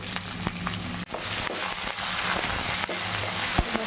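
Coconut rice being fried with salt in a pan gives a steady, loud, dense sizzle and crackle, broken by a few sharp clicks and scrapes, with no talking.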